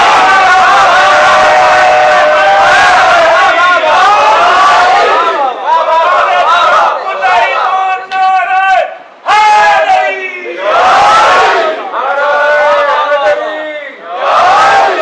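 A large crowd at a religious majlis gathering shouts chanted slogans in loud unison, rising and falling in repeated waves with brief pauses between calls.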